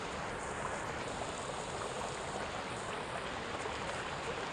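A waterfall in the VR game Zenith rushes steadily, a dense, even hiss of falling water that holds unchanged throughout with no one talking.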